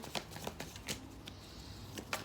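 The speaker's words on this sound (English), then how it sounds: "Let's give it a shuffle." Tarot cards shuffled by hand in a short burst of crisp riffling flicks and soft slaps, close and fairly quiet, with no talking.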